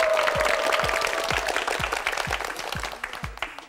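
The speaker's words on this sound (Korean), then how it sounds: "박수 보내주세요." Studio audience of a Korean KBS television quiz show applauds steadily and fairly loudly throughout, with regular low thumping beats underneath and no talking.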